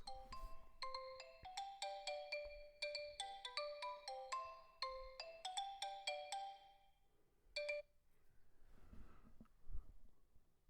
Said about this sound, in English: Now my phone ringing.